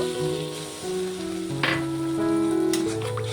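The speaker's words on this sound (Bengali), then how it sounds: "এখন আমি সামান্য একটু জল দিয়ে দেব" A splash of water hits a cooked-down ginger-garlic spice paste in a hot pan and sets off a bright, steady sizzle that crackles throughout, close and fairly loud.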